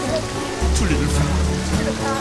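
Steady rain patters down outdoors as a rain cloud passes directly overhead, a dense hiss of drops throughout with some voices mixed in.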